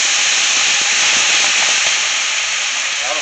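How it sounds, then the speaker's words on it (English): White wine deglazes a hot pan of beef fajitas, a loud, steady, close sizzling hiss that lasts throughout. "I'm gonna add deglaze just a little bit with some white wine"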